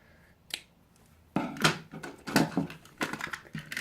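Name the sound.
scissors cutting ribbon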